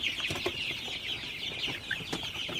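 Sonali super hybrid chickens, about 42 days old, cluck and chatter softly in a group at night, a steady overlapping murmur of calls with occasional sharper notes from nearby birds.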